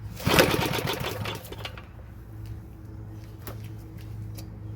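Pull-start of a 1952 Moto-Mower engine: a quick rattling cord pull at the start that fades, followed by a low steady hum and occasional light clicks, close by.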